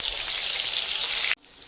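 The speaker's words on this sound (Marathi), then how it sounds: "असा मसाला घातलेला आहे तेलात भाजण्यासाठी" Ground masala paste fries in hot oil in a kadhai for mutton curry, a loud bright close sizzle that holds steady, then cuts off abruptly near the end.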